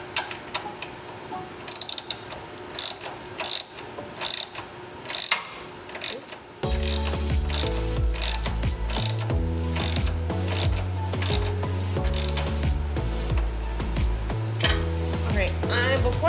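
Ratchet wrench tightening a Hybrid Racing intake on a K-swapped EJ1 Honda Civic, quiet fiddling first, then loud rapid repeated ratcheting clicks in bursts, close up.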